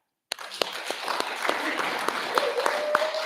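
An audience at a recovery foundation's anniversary spiritual service breaks into clapping that starts abruptly and continues steadily, with a few sharper individual claps and a voice calling out over it.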